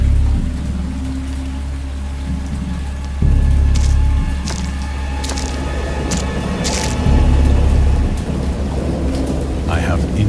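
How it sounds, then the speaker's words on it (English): A wild thunderstorm with heavy rain in the video game Dagon: steady rainfall hisses throughout while low thunder rumbles swell and fade, with a few sharper cracks breaking through. "I heard bells of thunder and other tones which nature utters only in her wildest moods."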